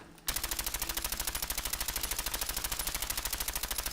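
Rapid automatic gunfire from Fallout 4 in a steady machine-gun rhythm, starting abruptly after a brief quiet moment and staying loud and continuous to the end, with no talking.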